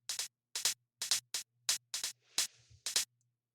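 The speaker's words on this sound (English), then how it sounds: "This hi hat has shuffle." Crisp electronic hi-hat playing a shuffled pattern in a garage track, short bright ticks paired with uneven swung spacing, alone and dry, with one longer open hiss near the end.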